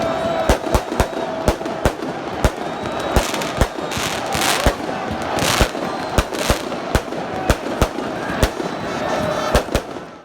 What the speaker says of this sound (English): England fans letting fireworks off out of a backpack on Wembley Way.